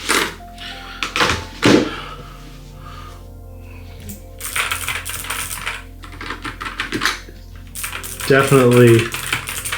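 Typing on a Nuphy Air75 V2 low-profile mechanical keyboard, close bursts of quick clicky keystrokes separated by pauses, with a brief spoken word and some handling noise.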